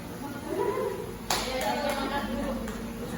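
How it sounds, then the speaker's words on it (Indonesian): A classroom group gives a short burst of applause as a reward, the clapping starting sharply partway through and continuing in a loose patter among the students. "Hadiahnya berupa tepuk tangan ya."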